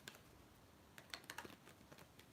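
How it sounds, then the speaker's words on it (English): Soft, irregular clicking of computer keyboard keys typed with long fingernails, quiet and close, with sharper taps in a brief flurry. "I bet it is weird typing with nails again."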